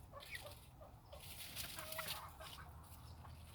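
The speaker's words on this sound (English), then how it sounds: "And I think these are 3 roosters." Several roosters and hens on a small homestead flock cluck and call in scattered bursts at moderate distance over faint outdoor background, with no talk.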